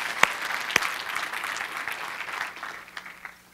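A church congregation applauds together in a sustained burst of clapping, a couple of sharp near claps standing out before the sound gradually thins and fades.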